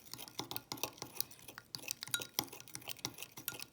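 A sugar-free sweetener mixture is stirred in a bowl with a utensil, giving repeated light scraping and clinking strokes in a quick, uneven rhythm at close range.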